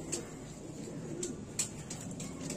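A male Madrasi high flyer pigeon cooing softly at close range, low murmuring coos over a quiet background with a few faint sharp ticks.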